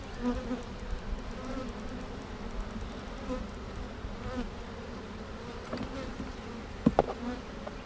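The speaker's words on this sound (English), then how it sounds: "this is gonna have a nice boom of bees whenever I'm ready to do the splits" Bees buzzing in a hive being prepared for a split, a steady low hum of many insects close by, with a few louder buzzes passing near the end.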